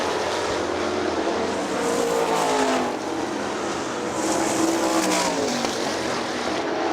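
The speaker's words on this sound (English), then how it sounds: "This time for your leader into turn 3, John Gall." Sprint cars race on a dirt oval at Hartford Speedway Park, engines roaring and revving as the pack sweeps through a turn, loud and sustained with rising and falling passes.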